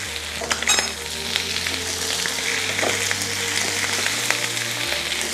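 Chicken liver dusted with turmeric fries in a pan, a dense, even crackling sizzle that runs unbroken over a low steady hum, with occasional sharper pops.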